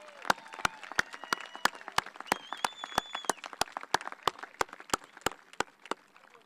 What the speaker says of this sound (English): Let's give them a big round of applause for their hard work and achievement.